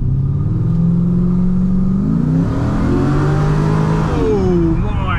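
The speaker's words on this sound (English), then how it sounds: "I'll give it some acceleration up the hill." Cammed Holden Commodore SS with an LS1 V8 accelerating hard uphill, its loud engine note holding steady then climbing in pitch as it revs, with a lumpy idle-like rumble underneath throughout.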